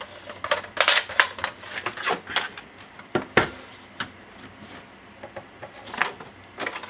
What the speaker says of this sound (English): now we're going to cut each corner out